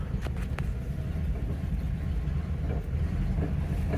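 A 1962 Mercury Comet with a yellow hood idles and is put into gear for a slow yard drive, its low steady engine rumble continuous and close throughout, with a few faint clicks early on.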